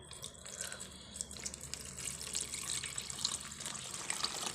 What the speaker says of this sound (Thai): โอเคใส่น้ำใบหญ้านางปุ๊บ